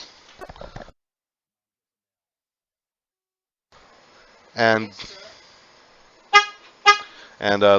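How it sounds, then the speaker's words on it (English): Car horn sounding in short blasts, a couple of sharp honks followed by more bursts, loud and close after a stretch of near silence, with a voice talking briefly at the start. "you just heard my car horn there"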